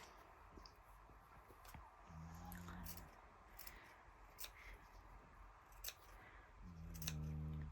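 Scissors snipping fabric for a bucket hat brim, two or three separate bursts of sharp crisp cuts against quiet room noise, close to the microphone, with no talking.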